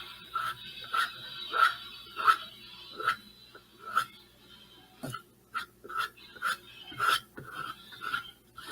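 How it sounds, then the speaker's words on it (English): Paint being scraped off upcycled Halloween and fall decor, a series of short raspy scrapes in an uneven rhythm, close and fairly quiet with pauses between strokes. "Just try not to put too much on it and just scrape it off."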